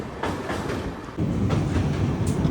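Steady rumble of the moving Sealdah–Jalpaiguri Road train 13115, with rhythmic clickety-clack of wheels on the rail joints, growing slightly louder partway through.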